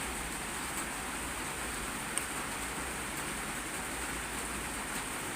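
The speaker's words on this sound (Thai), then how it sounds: "คือฝนตกพายุเนาะจะเป็นแบบนี้ละค่ะ" Heavy storm rain falling over a wide area around a house during a flood season: a steady, dense wash of noise with no breaks, moderately loud, and no voices.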